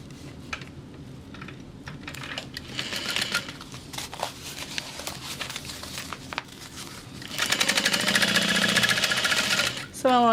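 A sewing machine stitching through the folded layers of a bag pocket, steady rapid needle chatter that pauses and restarts, then runs louder and faster toward the end, close by.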